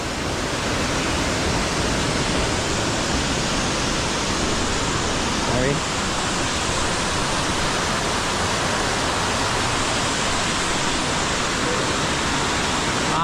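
Tall waterfall in Sri Lanka, a loud, dense and unbroken rush of falling water that fills the scene evenly from start to finish, with a brief faint voice partway through.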